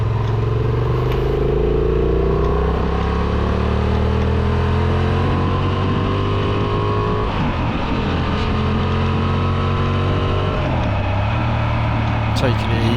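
A 2023 Honda Transalp 750 motorcycle pulls from low revs on a damp road, its engine note rising in steady climbing tones through the gears, loud and close with wind rush, as a rider talks over it.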